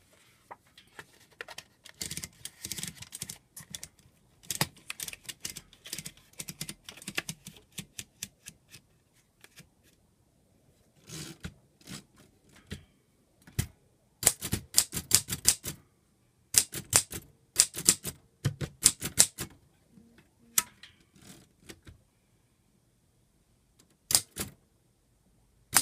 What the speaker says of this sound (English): I used my typewriter to type the date, December 25th,